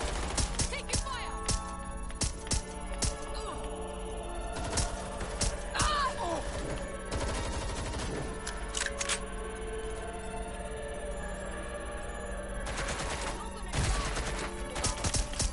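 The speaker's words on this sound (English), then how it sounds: "Taking fire." Paintball guns fire in rapid bursts and scattered single pops during a paintball game, with sharp cracks close by and farther off, mixed with mechanical clatter and brief voices.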